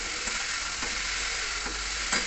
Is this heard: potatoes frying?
yes